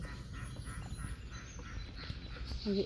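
Ducks on water near a hijal tree quack in soft, scattered bursts against low, continuous outdoor background noise, fairly faint and unaccompanied by talk.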